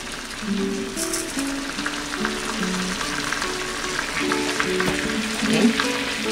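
Pork chops frying in a pan for a ranch-style dish, a steady close sizzle and crackle running throughout alongside some tonal background sound.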